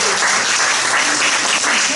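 An audience claps for police and firefighters in dense, steady applause that is loud and close and holds throughout.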